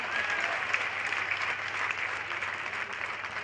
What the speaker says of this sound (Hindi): अरे बजाओ ताली भैया।